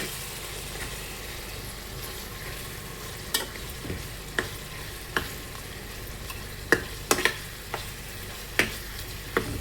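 Ginger garlic paste frying in a pan for a tomato mutton curry, a soft, low sizzle under scattered sharp clicks and taps of a spoon or spatula against the pan, growing more frequent toward the end.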